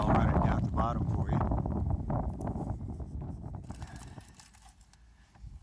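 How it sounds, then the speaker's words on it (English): Wind gusting across a bay campsite, a broad rushing roar buffeting the microphone and easing toward the end, with a voice speaking over it. "You guys saw and heard the wind"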